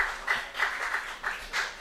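A crowd at a curling match, a 2017 Baden Masters quarterfinal, applauding a shot, with steady rolling clapping that swells in several waves, heard moderately far off in an indoor arena.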